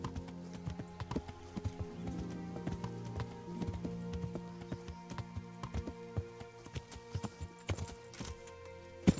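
Horse hooves clip-clop in a steady rhythm through a medieval open-world video game, close and fairly quiet, over soft background game ambience, with a brief whinny in places and no talk.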